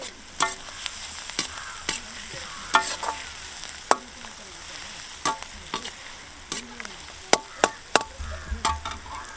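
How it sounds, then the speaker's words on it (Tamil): A spatula stirs and scrapes ingredients in a pan for fish head curry, giving sharp irregular clacks over a steady low sizzle of frying, close and fairly loud with no talking. "எப்படி வதங்கிடுச்சு பாருங்கள் இது மாதிரி வதக்கிங்க நல்லா"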